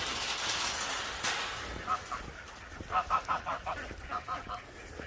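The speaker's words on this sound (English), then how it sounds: "let's go feed these ducks and chickens" A run of repeated honking, quacking calls from ducks and chickens on a farm in quick bursts, with steady outdoor background noise and a faint earlier rustle.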